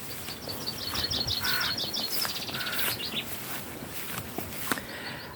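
Birds giving alarm calls outdoors: rapid bursts of chirps and harsh caws repeat over several seconds, moderately near against a faint background hiss, with no talking.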